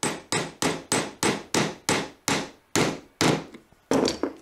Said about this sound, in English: And then I can pound in the casters